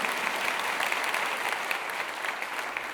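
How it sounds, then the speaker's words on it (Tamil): A packed hall audience applauds at a festive Pongal debate show, dense steady clapping filling the room without a break. "ஒரு அரங்கு நிறைந்த கைத்தட்டு"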